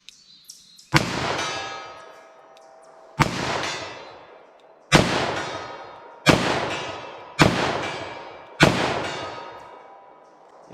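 Six loud, sharp reports from a .357 Magnum revolver firing Fiocchi ammunition double action, spaced about one to two seconds apart, each ringing out with a decaying echo.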